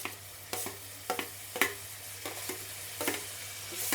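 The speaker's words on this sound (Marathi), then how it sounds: "आता टाकते टोमॅटो." Tomatoes hitting a hot pan for pav bhaji, a fairly quiet sizzle punctuated by rhythmic, regularly spaced scrapes of a spatula over about four seconds.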